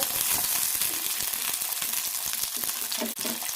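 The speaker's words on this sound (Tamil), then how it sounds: "மிதமான கீழே வச்சு வதக்கிங்க" Ingredients for a mutton (goat meat) gravy sauté on medium heat, a dense, steady frying sizzle with quick scraping stirs close up throughout.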